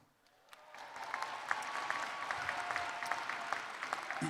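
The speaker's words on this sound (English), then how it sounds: "Give yourself a round of applause." Graduates at a university winter commencement break into a round of applause, swelling in after a quiet start into a broad, steady crowd clapping heard from a distance in a large venue.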